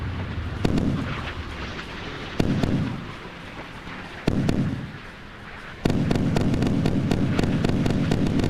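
Naval guns firing in the warship simulation game Sea Power: four heavy blasts spaced a second or two apart, each with a rumbling tail, the last settling into sustained roar.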